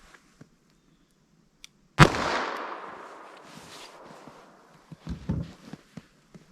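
A single sharp .38 Special +P shot, Cor-Bon DPX solid copper hollow point, fired into ballistic gel, loud and close with a long rolling echo tail, followed by faint clicks and light handling noises.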